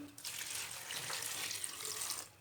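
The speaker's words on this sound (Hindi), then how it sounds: "अब गोभी को धो लेंगे।" A kitchen tap runs water over cabbage being washed for a cabbage and potato dish, a soft, steady splashing stream lasting a couple of seconds before it stops, quiet and close, with no talking.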